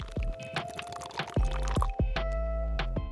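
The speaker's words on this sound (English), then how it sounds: "followed by 90 milliliters of boiling water." Boiling water poured into a small vessel that already holds a little cool water, a close, continuous stream that gurgles and bubbles steadily, with pitch shifts as the vessel fills.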